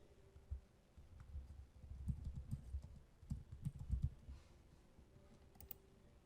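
Someone types a file name on a computer keyboard, a quick run of close, clicky keystrokes in uneven bursts that stop after a few seconds.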